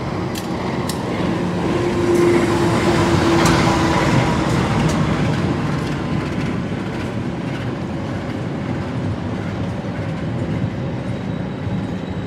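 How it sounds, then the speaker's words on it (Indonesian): The Mutiara Timur passenger train rolls through Pasuruan station with a loud, steady rumble and rail clatter. A brief horn or whistle tone sounds early, then the noise eases slightly as the cars keep passing. "Mutiara Timur, tujuan Banyuwangi, stasiun Ketapang, sudah hadir di stasiun Pasuruan yang membuat telat kereta"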